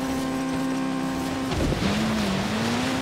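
Race car engine in Forza Horizon 3 holding a steady high drone, then a brief rough burst with tire scrub before the engine note resumes and climbs, loud and close.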